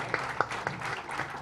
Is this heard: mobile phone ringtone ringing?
no